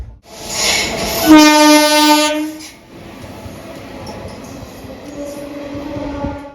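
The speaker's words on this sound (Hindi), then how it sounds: "तो फिलहाल इस वक्त अपनी ट्रेन अपने home town Valmiki Nagar road railway station पे आके लग चुकी है।" A special passenger train running between Raxaul and Gorakhpur sounds a long, loud, tonal horn blast, then rolls on with a steady rumble and faint wheel noise, with brief horn-like tones near the end.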